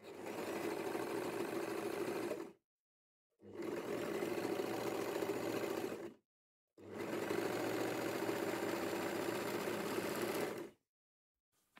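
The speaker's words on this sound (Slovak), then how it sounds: "ja idem šiť na overlocku, takže si to zošijem tam." Overlock serger stitching fabric for high-waisted sweatpants, running close and loud in three sustained bursts of about two to four seconds each, separated by short pauses.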